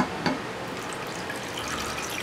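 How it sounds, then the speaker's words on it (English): Orange juice pours over pork in a cooking pot, a soft continuous liquid splash and trickle, fairly quiet and close, with a small knock near the start. "I'm going to add orange juice."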